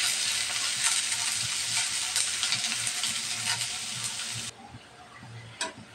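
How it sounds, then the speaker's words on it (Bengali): Chopped onions and green chillies sizzle steadily in a hot pan, a loud continuous hiss and crackle that drops off abruptly near the end. "পেঁয়াজটা আমি ভালোভাবে ভেজে নেব"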